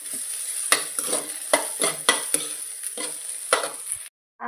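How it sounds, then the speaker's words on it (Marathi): Okra fries in hot oil under a bright, steady sizzle while a utensil stirs and scrapes the pan in a run of quick, uneven strokes, close and clear, ending in a brief silence. "सर्वात पहिले तेलामध्ये भेंड्या टाकून मला फ्राय करायचं."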